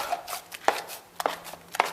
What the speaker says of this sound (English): You're just tossing and turning, mixing it by hand.